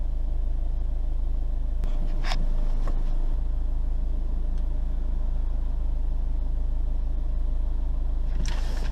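A 2014 Hyundai Santa Fe DM pulling away from a stop on the accelerator, a steady low engine hum with a couple of brief clicks and light rumbles, close and without voices.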